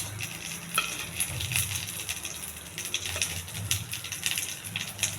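Curry leaves, dried red chillies and tempering spices spluttering in a little hot oil for coconut coriander chutney produce a dense, crackly sizzle with sharp popping ticks, moderately loud and close throughout.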